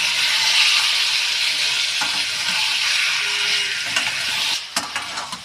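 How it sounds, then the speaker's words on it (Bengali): Marinated chicken pieces sizzle steadily in hot oil while being stirred, a loud close hiss with a few scraping spoon knocks near the end. "আমি ম্যারিনেট করে রেখেছিলাম, এইটা আস্তে আস্তে তেলে ছেড়ে দিচ্ছি।"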